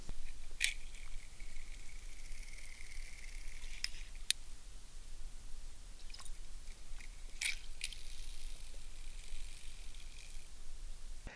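A tiny spinnerbait with double Colorado blades on a steady retrieve, recorded underwater: a faint, steady hiss with scattered small ticks and clicks spaced irregularly across the run.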